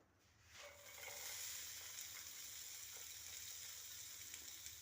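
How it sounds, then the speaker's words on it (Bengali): Onions frying in hot oil for an aloo matar sabzi, a steady close sizzle with broad hiss that swells after the first second and holds evenly to the end, with no talk. "তেলটা গরম হয়ে গেলে আমরা এতে পেঁয়াজগুলো দিয়ে দেব।"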